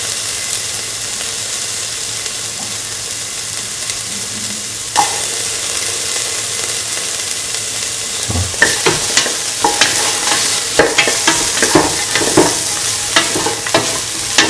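Ginger and garlic being stir-fried with potato, mung beans and rice in a hot pan, with a steady sizzle and louder clacking scrapes of the spatula stirring through the second half.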